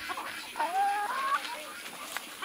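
Chickens around a farm coop at bedtime give a brief, close run of clucks and a rising squawk, with no one talking.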